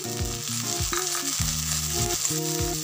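Soaked peanuts are tipped into onions frying in hot oil for a Maharashtrian sprouted moth bean usal, giving a steady close sizzle with soft stirring, while sustained musical tones play underneath throughout.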